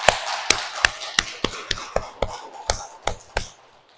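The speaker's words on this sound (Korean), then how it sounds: "여기 온 여러분 모두랑 또 음악을 하시는 모두를 위해서 박수 한번 칠게요." A church congregation claps together in a steady, even rhythm, with about nine sharp claps spaced roughly half a second apart that fade out at the end.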